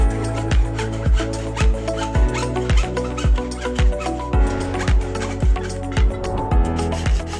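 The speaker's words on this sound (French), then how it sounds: "coupez l'ensemble du coffre en suivant le tracé" A vertical roll-up mosquito screen's box housing is being cut along a marked line, giving a steady run of rhythmic sawing or rasping strokes, each one a distinct scrape, close up with no talking.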